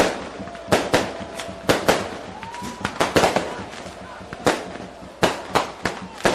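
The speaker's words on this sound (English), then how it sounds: "now got fireworks." Fireworks and firecrackers going off at a National Premier Leagues men's football match between Western Sydney Wanderers and Sydney Olympic at Wanderers Football Park, a string of sharp bangs and pops at irregular intervals over crowd noise, with a commentator talking.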